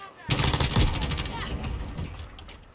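Gunfire in the battle-royale shooter Warzone, a burst of several quick shots followed by more scattered firing, fairly loud and close, with a voice talking over it.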